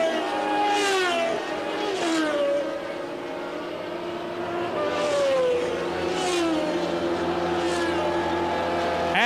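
Formula One race cars of the Williams team at the 1981 Brazilian Grand Prix scream past one after another, their engine notes rising and falling in repeated loud sweeps over a steady crowd-like background.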